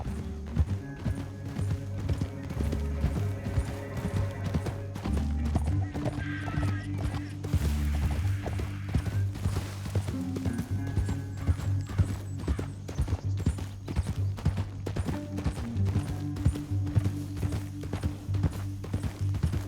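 Horses gallop with rapid, rhythmic hoofbeats in Red Dead Redemption 2, moderately loud and continuous over a canyon trail, with occasional neighs and game background sounds.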